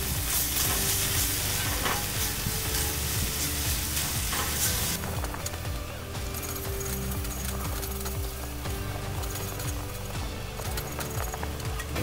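Fenugreek, allspice and other spices sizzle steadily in a hot Dutch oven, a dense close-up frying hiss with occasional stirring scrapes, brighter for the first five seconds and then a little duller, with no talk.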